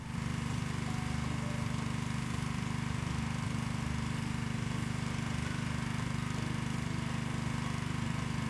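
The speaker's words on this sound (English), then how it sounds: "we're going to use gurney, high pressure, and we'll clean everything down with the water" A gas pressure washer engine drones steadily and loudly without pause while cleaning a Colorbond steel fence, a constant mechanical hum.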